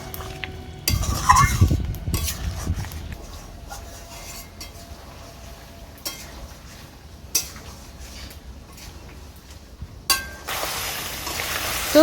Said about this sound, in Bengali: এটাকে এবার আমি ভালো করে নেড়ে চেড়ে নেবো আর জলটাকে শুকিয়ে নেবো